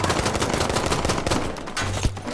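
Rapid gunfire in the video game Battlefield 5, with a loud, dense burst of automatic shots rattling close by and a few sharper single cracks near the end.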